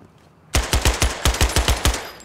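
A Tec-9 fires in a first-person shooter video game: about eight sharp, loud shots in quick, even succession, close up, with a short ringing tail.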